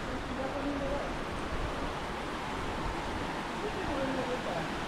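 Water flows beside a Ganpati temple in the Konkan, near a waterfall, producing a steady broad rushing wash. A person talks faintly beneath the constant flow.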